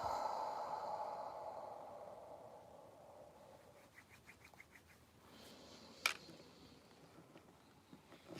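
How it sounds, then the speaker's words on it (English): Slow, deep breath drawn in and let out during a calm guided breathing moment, soft and airy, fading after a few seconds, with only faint light taps afterward and no talking. "Take a deep breath in."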